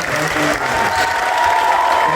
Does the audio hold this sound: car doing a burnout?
no